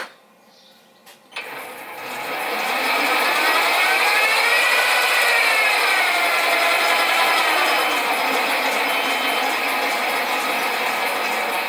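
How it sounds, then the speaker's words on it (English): A metal lathe spins at about 340 RPM, cutting small bearings with manual cross-slide feed for a Stuart half beam steam engine; a click, then a steady loud mechanical hum with a rising and falling tonal whine carries on alone. "I'm going to run the lathe around about 200 or 300 RPM, and I'll use the manual feed on the cross slide."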